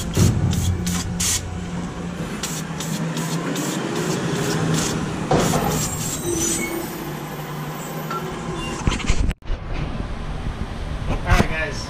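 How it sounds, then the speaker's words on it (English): Brake cleaner is sprayed onto the brakes of a Toyota Corolla, giving a loud, steady aerosol hiss that runs for several seconds, with another mechanical noise behind it, before a brief cut. "Go ahead and brake clean this off real quick."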